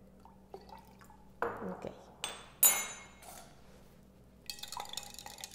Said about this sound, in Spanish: vamos a agregarle dos cucharadas de agua.